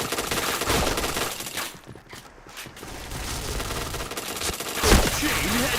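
Rapid automatic gunfire from the Point Blank shooter game rattles in dense bursts, briefly pausing before resuming loud and continuous, with a sharp louder shot near the end.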